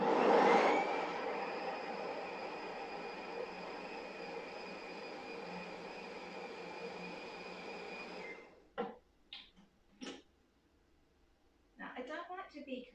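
A food processor whirs steadily, grinding two tins of drained chickpeas for falafel, a loud continuous motor drone that stops abruptly, followed by a few clicks and a brief burst of talking.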